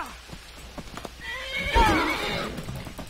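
A horse in the Skyrim video game gives a loud, drawn-out whinny in the middle of the clip, preceded by scattered hoof clops and followed by fading game ambience, with no talking.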